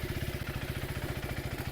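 A KTM 390 Adventure motorcycle rides along steadily in second gear, its single-cylinder engine giving a fast, even, pulsing thrum. Wind rushes over the engine from start to finish.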